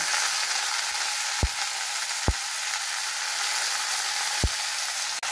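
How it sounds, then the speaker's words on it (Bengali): Jute leaves go into hot oil with frying garlic, giving a loud, constant sizzling hiss broken by three dull thumps. "এবার এর মধ্যে শাকগুলো দিয়ে দেব।"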